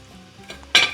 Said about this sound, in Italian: Io continuo a friggere